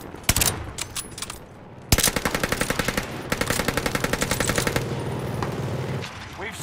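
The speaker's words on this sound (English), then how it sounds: "They shoot me!" Loud, close automatic gunfire in the Call of Duty: Modern Warfare video game, with rapid bursts of rattling shots, single sharp cracks, and a long sustained volley over a rumbling battle backdrop.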